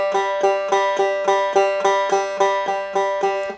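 A bluegrass banjo picks steady eighth notes on a single string, about eight bright, ringing plucks in an even rhythm, close and clear with no voices.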